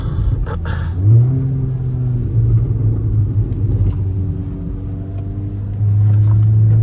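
A Cupra Ateca with a stage 2 tune pulls at full throttle, its engine droning loud and close from inside the car. The pitch climbs, drops at a gear shift, then climbs again, ending in a louder surge.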